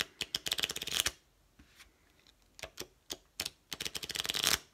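Deck of playing cards handled for a Svengali magic trick: rapid riffling bursts at the start and end, with scattered single snaps and flicks between them, close and crisp.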